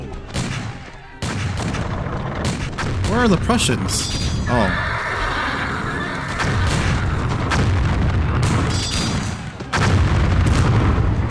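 Deep booms of cannon fire roll through a Battle of Waterloo scene in the video game Empire Earth, amid a horse's whinny and shouting voices, with a speaker talking over it.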